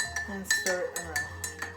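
A spoon stirs a little creamer into a cup of coffee, giving a run of light, rhythmic clinks against the cup, close and fairly quiet, repeating about every quarter second.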